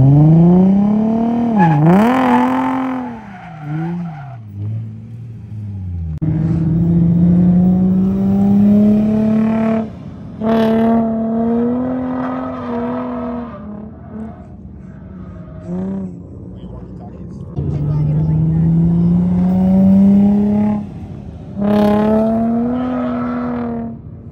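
A car drifting on a race track, its engine revving hard in long rising and falling sweeps with brief lifts off the throttle, loud and close throughout.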